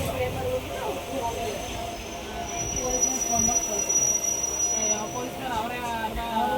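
A passenger train rolls along with a low rumble, and the metal wheels squeal on the rails throughout. People can be heard talking under the rail noise.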